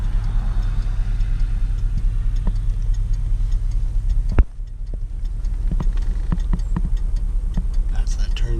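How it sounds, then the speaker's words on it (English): Turn signal ticking inside a Rolls-Royce Silver Cloud, a steady run of faint, regular clicks over a low engine idle hum, close by in a quiet cabin. "That's that turn signal. That's the turn signal."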